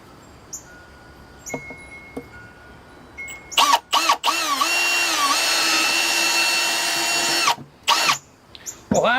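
An electric drill with an auger bit whines up and runs steadily for several seconds drilling a bonsai pot, with brief starts and stops before and after, and faint bird chirps behind.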